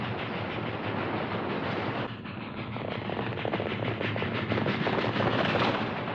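A train on the line to Dodge City picks up speed with a loud, steady, rhythmic chugging that grows busier and denser toward the end, with no voices.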